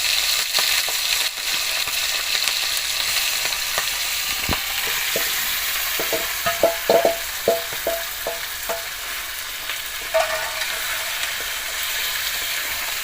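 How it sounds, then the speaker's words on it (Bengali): Duck meat frying in hot oil with whole garam masala, a steady loud sizzle broken by a series of sharp scraping stirs in the middle stretch. "এবারে আমি মাংসটা দিয়ে দিচ্ছি তেলের মধ্যে"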